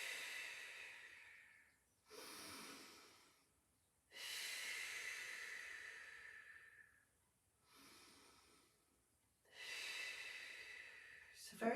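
Slow, steady breathing in through the nose and out through the mouth during a Pilates exercise, heard as four long airy breaths alternating with short pauses, close and moderately soft.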